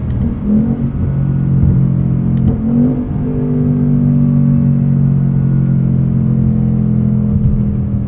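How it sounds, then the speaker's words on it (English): A 2024 Ford Mustang Dark Horse with a 10-speed automatic accelerates hard in sport mode, its engine a loud, close droning roar from inside the cabin that climbs and dips in pitch as the gears shift. "Sport mode wakes up the gearbox too. Really close gearing."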